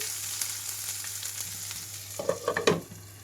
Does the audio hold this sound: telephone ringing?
no